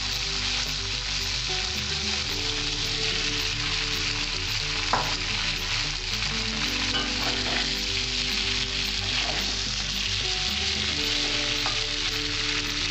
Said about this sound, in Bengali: আমি এবার ঢাকাটা খুলে দিচ্ছি দিয়ে ওর মধ্যে আমি আলুটা ছেড়ে দেবো